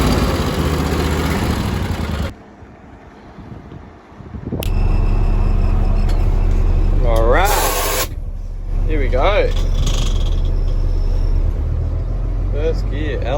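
A farm truck's engine runs steadily in low first gear with brief grinding gear shifts, loud and close, while someone talks over it.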